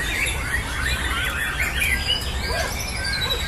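A young oriental magpie-robin (murai batu) sings in a varied stream of bright chirps and trills, moderately close, over a steady low background hum.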